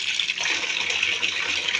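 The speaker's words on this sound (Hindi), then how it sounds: "अब इसमें हम पानी भर के, और ये ठंडा पानी है" Cold water from a freshly filled tank pours steadily into a container, a close, continuous splashing rush with no talk.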